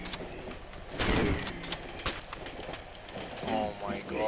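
Video game gunfire cracks in scattered sharp bursts, a few loud shots and quieter pops spread across the moment amid game sounds, with players talking over it.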